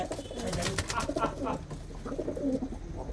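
Pigeons coo nearby in a run of soft, repeated throaty calls, one overlapping another, against a quiet low background.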